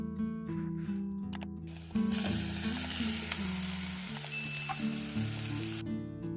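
Ridge gourd hits hot oil with onion and curry leaves in a Sri Lankan curry: a loud, steady sizzle bursts in close up and continues under stirring before dying away.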